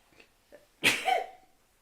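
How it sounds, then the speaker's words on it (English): A single sharp sneeze bursts out after a couple of soft breaths, loud and close, then fades quickly into quiet. "I've got to sneeze."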